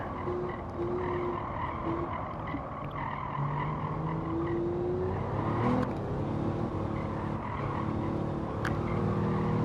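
Car tires spin and squeal while climbing a hill at Streets of Willow in Gran Turismo 7, with wavering squeal tones over a continuous engine drone and skid noise.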